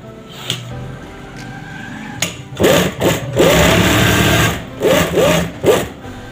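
A sewing machine runs in short, loud bursts while stitching a secret front pocket on a garment. Quiet handling noises come first, then repeated rapid whirring runs start and stop close to the microphone.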